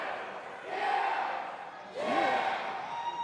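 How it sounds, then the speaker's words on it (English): Wrestling crowd at a live event cheering and roaring, swelling in two loud waves with chants rising over a steady arena din. "Listen to the crowd here."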